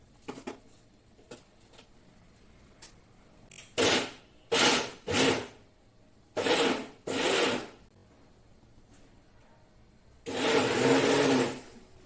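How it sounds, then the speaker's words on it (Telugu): A kitchen mixer grinder runs in short bursts as it grinds large tomato pieces into a paste, giving a series of rough whirring pulses and then one longer grind near the end, with quiet gaps between them. "సో అవి పెద్ద పెద్ద ముక్కలుగా కట్ చేసి మిక్సీలో మెత్తగా పట్టుకోవాలి."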